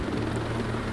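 Helicopter in the video game Ghost Recon Breakpoint, a steady low rotor drone with a continuous hum that holds level throughout.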